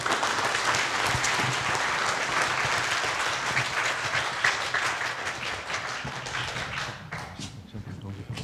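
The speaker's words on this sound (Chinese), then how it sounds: "我们一起热烈掌声来欢迎" A lecture audience at a university talk claps warmly and steadily to welcome an academician speaker. The dense, continuous applause fills the hall before gradually thinning out toward the end.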